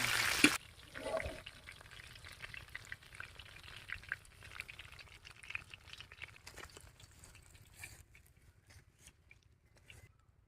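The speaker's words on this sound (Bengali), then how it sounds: "অল্প একটু ভাজা হোক" Oil sizzles and crackles steadily in a pan, with a sharp burst at the start and occasional stirring clatter, gradually settling lower.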